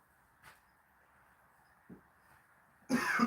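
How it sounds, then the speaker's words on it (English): A single harsh cough from a sick man with a bad throat bursts out near the end, loud and close, after a quiet stretch with a couple of faint thumps during a deadlift workout. "As soon as I say that, I cough."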